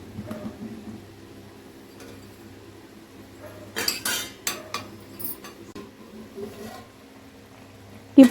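A ladle scraping and clinking against a hot metal pan as dried kasuri methi is stirred off the heat, with sharp metallic knocks and a brief bright rattle midway, ending on a loud clank.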